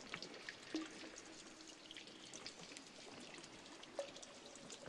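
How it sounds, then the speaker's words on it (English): Water drips softly in a cave, set in a faint, steady wash of trickling water with a few isolated drops standing out, quiet and with no voices. "you hear the soft drip of water."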